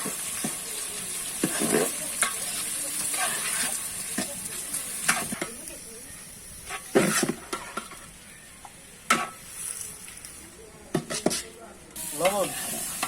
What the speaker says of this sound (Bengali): তেজপাতা, পেঁয়াজ দিবেন। এবার আমরা পেঁয়াজ দিয়ে দিচ্ছি।